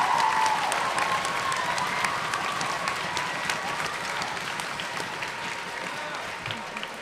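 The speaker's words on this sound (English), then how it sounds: "If everyone could just give me one more second of a nice round of applause for her to show our appreciation." A school audience at a middle school honors assembly claps warmly for a teacher, dense steady applause filling the hall and gradually thinning toward the end, with no voices over it.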